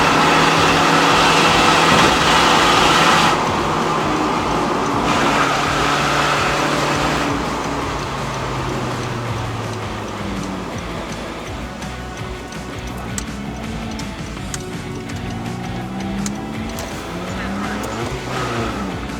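A Honda CR-Z ZF1 with a six-speed manual climbs the winding mountain road up to Genting in Malaysia. Its engine drones loudly and continuously, pitch rising and falling through the corners, with road and tire noise underneath.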